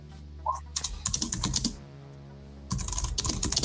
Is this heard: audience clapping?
no